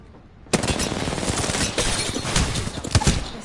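Rapid, sustained gunfire from the battle royale game Apex Legends breaks out after half a second of quiet and continues loud and dense, with bursts layered close together throughout.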